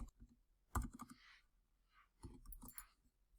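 Two quick bursts of key clicks on a computer keyboard while a name is typed into a text box in Google Docs, faint and close, separated by a short pause.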